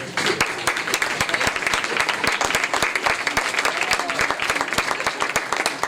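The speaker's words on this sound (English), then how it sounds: "you can give her a round of applause as she comes" Steady, dense applause from a large dinner-celebration audience as a woman comes to the stage, loud and continuous throughout with a crowd murmur underneath.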